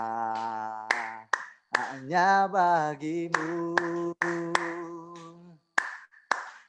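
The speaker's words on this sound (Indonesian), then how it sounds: "Dengan tepuk tangan" Congregation clapping along to an Indonesian-language worship song, sharp claps landing at intervals under a sustained sung vocal with accompaniment, the singing carrying over the rhythmic hand claps.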